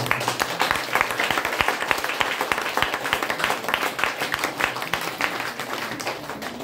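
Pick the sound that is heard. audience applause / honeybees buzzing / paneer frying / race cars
audience applause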